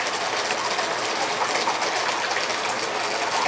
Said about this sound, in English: this waterfall's going